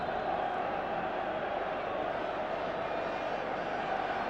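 A packed stadium crowd of 78,000 before the 1997 Challenge Cup rugby league final, Bradford Bulls against St Helens, a dense steady roar of murmuring voices and distant cheers, continuous and even throughout.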